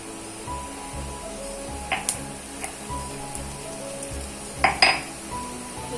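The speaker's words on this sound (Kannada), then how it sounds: "ಎಣ್ಣೆ ಒಂಚೂರು ಬಿಸಿ ಆಗಲಿ. 2 ಚಮಚ ಕೊತ್ತಂಬರಿ ಬೀಜ ಹಾಕುವ" Coriander seeds and cumin crackle and sizzle in hot oil for a patrode seasoning, a steady low fry with scattered sharp pops and a couple of louder spits near the end, no voices.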